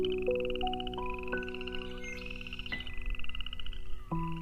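A frog croaks in a series of clear, tonal calls that step in pitch, several distinct croaks spaced over a few seconds against a quiet natural background with music-like sustained tones.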